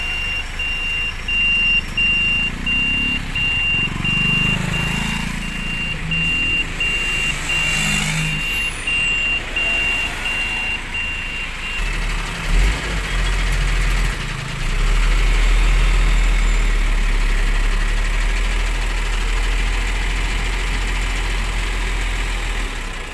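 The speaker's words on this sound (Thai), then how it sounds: "การจราจรติดขัด" Vehicle engines idle in a traffic jam, making a continuous low rumble throughout, with a steady high beeping tone in the first half. The sound is loud and near, and nobody talks.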